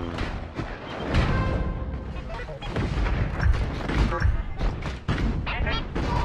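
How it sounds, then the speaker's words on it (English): Turret destruction in the video game Honor of Kings, a dense run of explosive booms and crashing impacts layered over game music, loud and continuous, with an announcer-style voice over the action. "Your turret has been destroyed."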